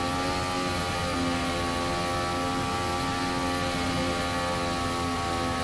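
Turbo-hybrid Formula One car engines in Assetto Corsa hold a steady, high-pitched rev on the starting grid, a dense continuous whine with fixed harmonic tones, loud and unbroken throughout.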